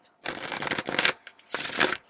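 A tarot card deck riffle-shuffled in two close, crisp bursts of rapid fluttering card slaps with a short pause between, loud and alone without voices.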